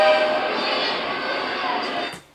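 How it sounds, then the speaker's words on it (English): An amusement park choo-choo train rolls past steadily and fairly loud, a continuous rumbling clatter with a brief faint whistle near the start, fading out abruptly at the end. "It's a choo-choo train in the middle of the amusement park."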